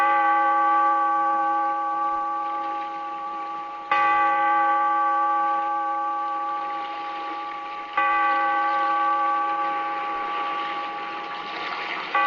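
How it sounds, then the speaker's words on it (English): A church bell tolls in a radio drama, struck three times at roughly four-second intervals, each strike ringing out loud and clear with a long, sustained hum that fades slowly between blows, with no voices over it. "Bellkeeper, toll the bell, so that all may know we are gathered again in the Weird"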